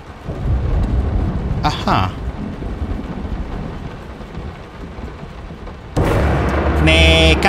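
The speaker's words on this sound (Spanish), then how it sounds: "Esos relámpagos me están empezando a infartar" Rain and rolling thunder in the horror video game Layers of Fear, a steady downpour with a sharp thunderclap and a louder burst near the end, while a player talks briefly.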